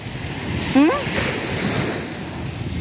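Sea waves wash onto the beach at Botolan, Zambales, a steady broadband surf roar mixed with wind noise on the microphone, with a short rising whistle-like tone briefly cutting through the middle.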